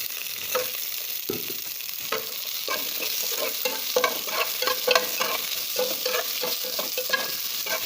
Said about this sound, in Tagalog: konting gisa ang ating ricado. Ayan, unahin natin ang ating luya.